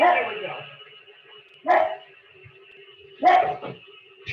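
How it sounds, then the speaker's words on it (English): A pet dog barks indoors during a home cooking class, three sharp separate barks spaced over a few seconds, with a person speaking briefly at the start. "That's my dog"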